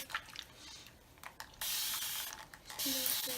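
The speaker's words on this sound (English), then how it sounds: "You want to spray a little more." A handheld spray bottle mists water onto natural hair during flat twist styling, a few short spritzes followed by two longer hissing bursts, close and fairly loud with no voices.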